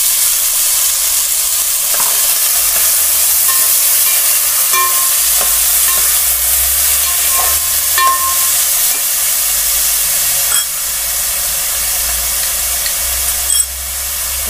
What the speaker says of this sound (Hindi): तो हल्का सा फ्राई करूंगी मसालों को थोड़ा सा।